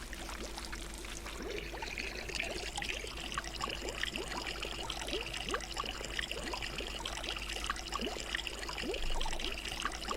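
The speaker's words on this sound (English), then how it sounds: "Now tilt your book up to pour that juice downward." Liquid, juice being poured into a flask in the PS3 game Wonderbook: Book of Potions, pours steadily with a continuous trickling, gurgling splash, fairly close and unbroken throughout, with no voices.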